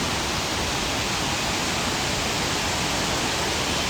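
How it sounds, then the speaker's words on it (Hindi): Dadar Waterfall in the Kaghan valley of Khyber Pakhtunkhwa, Pakistan, pours as a loud, unbroken roar of rushing water. The wash of noise is dense and constant, close to the falls, with no voices. "ये डाडर वाटरफॉल है।"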